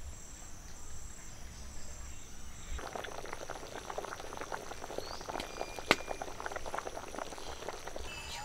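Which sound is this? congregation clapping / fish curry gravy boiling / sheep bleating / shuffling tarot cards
fish curry gravy boiling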